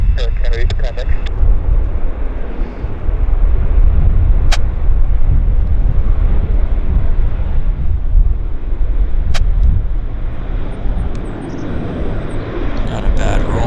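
An Air Canada airliner rolls out after touchdown at Vancouver airport, giving a steady broadband roar of engine and rushing air that holds loud through the clip, with brief sharp ticks along the way.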